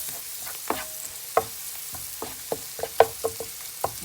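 Ginger and other ingredients for nettle soup are stirred in a pot, giving a soft sizzle broken by a dozen sharp spoon knocks and scrapes against the pot at an uneven pace, close by and with no talking.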